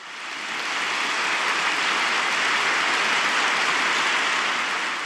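Sustained, dense applause from the faithful at a papal audience fills the space, a broad, steady wash of clapping that swells in and holds evenly, with no voices over it.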